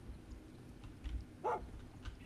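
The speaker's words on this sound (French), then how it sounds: "Un chien." A dog in the video game Far Cry 6 lets out a single short bark or yelp, faint and set back against low game ambience with no talking.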